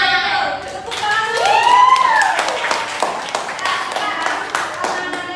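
Students in a classroom teaching simulation on the water cycle clap together, a run of sharp, irregular hand claps, fairly close, mixed with a tonal voice-like sound and chatter.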